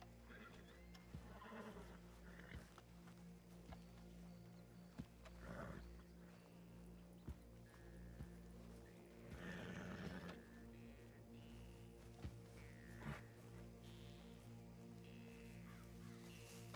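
A spooked horse whinnies in the western role-play game RedM, with several sharp neighing bursts rising over a busy outdoor background of other animal calls.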